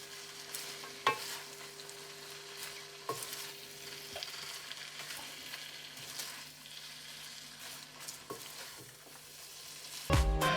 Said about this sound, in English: I'm going to finish off stir frying the veg